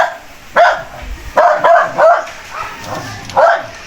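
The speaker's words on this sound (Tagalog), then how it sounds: "May aso. Aso, kuya." Dog barking outdoors, about six sharp barks in an irregular rhythm over four seconds, fairly close and loud with a quiet background between them.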